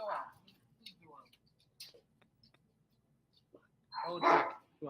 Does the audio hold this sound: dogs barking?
yes